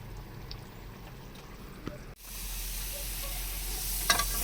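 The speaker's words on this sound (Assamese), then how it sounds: "মছলাখিনি শুকাই নোযোৱালৈকে ভাজি থাকিম" Masala spices sizzle and hiss in a hot pan while being stirred for a soybean and potato curry; the frying swells abruptly into a louder, steady crackle partway through, with a few scraping stirs near the end.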